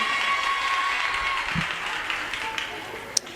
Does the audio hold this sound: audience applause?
yes